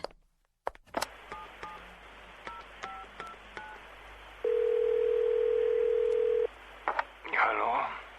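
A telephone number being dialed: a run of short touch-tone beeps in an irregular rhythm, then a steady ringback tone lasting about two seconds, followed by a person's voice.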